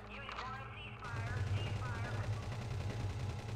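Rapid gunfire and bullet impacts in a police-chase video game, a steady dense rattle under a person talking.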